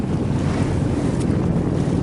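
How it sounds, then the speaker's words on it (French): Sailboat running under its engine at sea between Saint-Gilles-Croix-de-Vie and Les Sables d'Olonne, a steady low engine and hull rumble mixed with continuous wind buffeting on the microphone and wash of water, loud and unbroken throughout. "Là pour le moment nous sommes au moteur."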